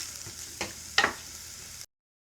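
Vegan bacon strips and onion frying in a pan, a steady soft sizzle broken by two quick scraping stir sounds before it cuts off.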